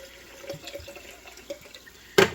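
Broth is poured into a can to rinse out the remaining juice for a cast iron skillet lasagna, giving a soft, quiet trickle with faint splashes and a sharper clatter at the end.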